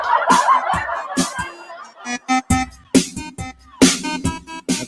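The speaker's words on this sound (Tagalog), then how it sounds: "Pinapakain ko kasi yung mga alaga kong manok eh." Pet chickens being fed in the late afternoon give a run of close, repeated clucks and squawks, with short, sharp calls breaking out at irregular intervals.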